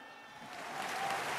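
Faint, distant applause rises gradually from a mini-stadium audience at a poetry recital, swelling slightly toward the end of a short burst.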